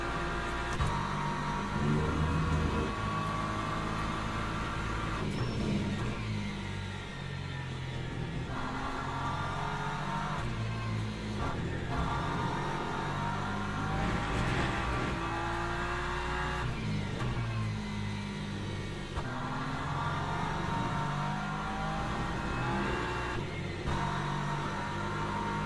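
A BMW race car in the Le Mans Ultimate video game at Spa, its engine revving and accelerating in sustained loud waves with shifting pitch and other cars close by.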